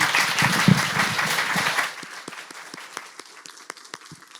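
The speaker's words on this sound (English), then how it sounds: "Let's give him a round of applause." Audience applause after a talk, starting as a loud dense burst of many hands with a few voices, then thinning out into scattered individual claps that fade away.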